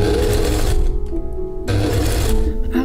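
A sewing machine stitches a velvet dress sleeve into the bodice. The motor whirs loud and steady, breaks off briefly in the middle, then starts up again, with no talking.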